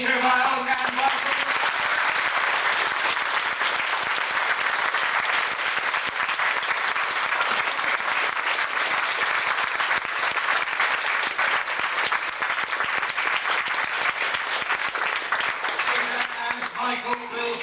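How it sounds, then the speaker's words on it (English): Sustained audience applause fills the hall at a 1990 Carousel event, with dense steady clapping from a large crowd that holds loud for most of the stretch before easing slightly at the end. "A round of applause, please, for Peter Miles and Michael."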